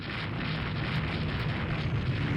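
Dense, continuous blast of aerial torpedo explosions in the naval strategy game Rule The Waves 3, a loud, steady roar with low rumbling bursts and no gaps.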